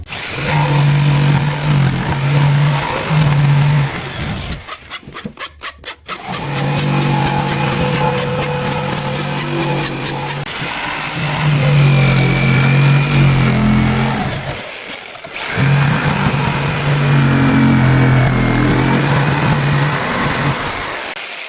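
A Ryobi power tool cutting while a ceiling rose template is built, its motor droning loud and close for most of the stretch with a brief dip partway through, no voices.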